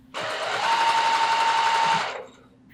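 A sewing machine runs in one continuous burst of just under two seconds, a close, fast whirring buzz while piecing rows of patchwork fabric for a pillow front, then stops.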